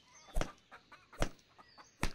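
A chicken in the survival video game Gone Survival gives short, soft clucks at a steady, irregular pace, mixed with sharp clicking game sounds and no talk.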